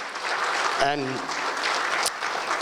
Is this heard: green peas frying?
no